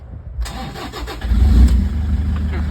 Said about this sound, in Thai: เดี๋ยวสตาร์ทฟังเสียงเครื่องนะคะ